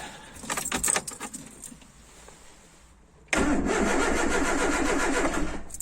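Keys jangle at the ignition of a Jago Jeep with the choke pulled, then after a pause the engine catches and settles into a loud, steady idle, close by with no talking.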